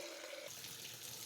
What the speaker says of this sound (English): So now we are pouring, we are getting water for our